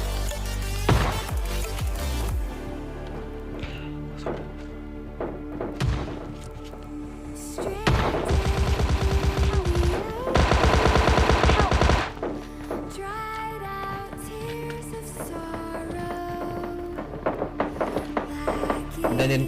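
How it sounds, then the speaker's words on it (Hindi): Shotgun blasts and other gunfire in the battle-royale game PUBG, heavy thumping shots and rapid bursts over game sound, loud and close, with a voice speaking at times. "तो पहले भाई साहब को शॉटगन से मारता हूँ मैं।"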